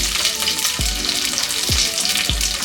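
Dried red chillies, green chillies and chana dal frying in hot oil for a ridge gourd stir fry, giving a steady close sizzle with a few low knocks from the pan.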